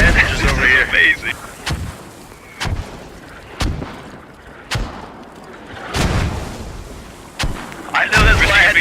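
Repeated mortar blasts in a multiplayer war video game, sharp booming impacts landing roughly once a second or two, some near and loud, with bursts of player voices talking at the start and end.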